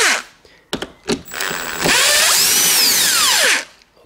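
A power tool undoing TX20 Torx screws on a BMW 3 Series cabin blower fan: a few short bursts, then a sustained close whirring spin that rises and falls in pitch before stopping.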